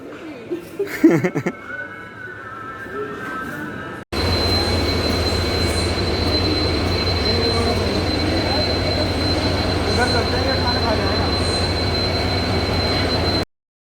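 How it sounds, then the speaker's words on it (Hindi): A double-decker train in India rumbles along with a loud, steady roar of wheels and carriage noise that continues for about ten seconds, preceded by a few quieter seconds of indistinct sounds. "This is the double decker train."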